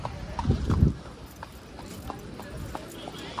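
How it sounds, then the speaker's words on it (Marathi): Horse hooves clip-clop in a slow, steady rhythm during a horse ride at Venna Lake, Mahabaleshwar, heavier at first then lighter, with faint background noise. "घोड्यावर चला घोडस्वारी"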